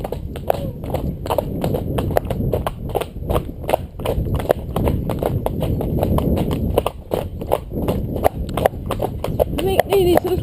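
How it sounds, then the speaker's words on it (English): A horse trots on a hard surface during a ride, its hooves clip-clopping in a brisk, steady rhythm close by throughout, with people talking over the hoofbeats. "going to have a trot"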